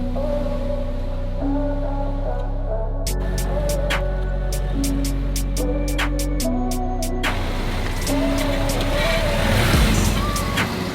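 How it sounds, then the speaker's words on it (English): A BMW E93 3 Series, a rebuilt budget wreck, drives around the block with a steady engine drone that shifts pitch through gear changes, and a burst of clicking ticks arrives midway. "I'm gonna take the car out, take it around the block and come back."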